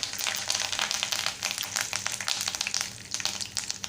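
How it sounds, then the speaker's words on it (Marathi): Mustard seeds and curry leaves frying in hot oil for batata poha, giving a dense continuous sizzle with sharp crackling pops throughout, close and fairly soft, no talk. "आता तेल गरम झालेलं आहे आता आपण मोहरी घालणार आहोत कढीपत्त्याची पानं घालणार आहोत"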